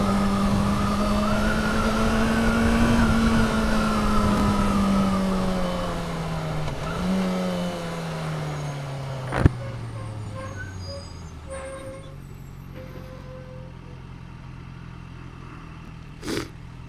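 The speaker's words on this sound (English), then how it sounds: "tell me if you can hear this engine. Fucking roars." A heavy, iron-horse-style motorcycle on a morning ride, its engine roaring loud and close with a sustained tone that climbs and then falls away as the rider eases off, followed by quieter road noise and a couple of sharp knocks.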